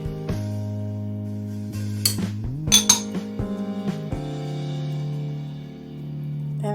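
Utensil clinking against a bowl while mixing albacore tuna, egg, minced garlic and all-purpose flour for crispy tuna and potato patties, with scattered close clinks and scrapes over a steady low background hum.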